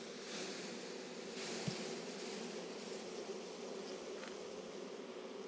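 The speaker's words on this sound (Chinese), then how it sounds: "我们把蜂抖掉给大家看一下" Honeybees buzzing in a steady close drone as they are shaken off an old, darkened comb frame being culled from a summer hive, with a soft thump midway and no voices.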